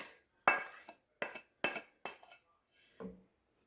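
A spoon stirs chicken and gravy in a metal pan, giving about six separate scraping clanks in an uneven rhythm with quiet gaps between them, close by and without talk.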